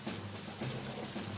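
Hands rubbed together to imitate rain during a preschool-at-home lesson, a soft, steady hiss of skin friction with a faint low hum beneath, brief and quiet.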